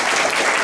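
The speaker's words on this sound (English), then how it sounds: "Let's give her a round of applause." A brief, dense burst of audience applause rises at an investment conference held in a hotel in Accra, loud and even for under a second.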